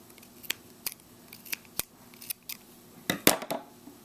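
Scissors snip crochet yarn several times in a quiet room: brief, crisp clicks spaced about half a second apart, ending in a quick cluster of louder cuts.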